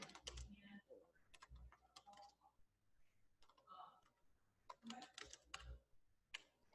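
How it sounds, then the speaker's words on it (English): Quick, uneven bursts of keystrokes clatter on a computer keyboard, pausing briefly between flurries, close and fairly quiet. "you can see my terrible typing here."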